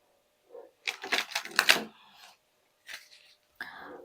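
Tarot cards are shuffled and handled during a card draw, giving close, dry bursts of riffling and flicking in short separated clusters with silent gaps between them.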